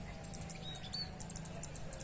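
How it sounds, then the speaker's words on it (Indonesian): Faint high chirps and tweets from small birds, scattered repeatedly over a steady low background rumble, sounding somewhat distant. "Terdengar juga suara burung-burung yang sedang berkicau"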